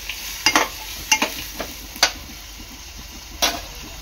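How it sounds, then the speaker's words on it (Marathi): Cashew and spice masala being sautéed in oil for veg Kolhapuri, soft background sizzle broken by several sharp scraping and stirring clicks of a spoon against the pan, close and fairly quiet. "काजू हे मिश्रण चांगलं तेलावर परतून घ्यायचं आहे।"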